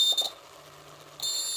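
A short circuit indicator alarm on a school project motor-protection circuit sounds in brief high electronic beeps, two quick bursts separated by a short pause.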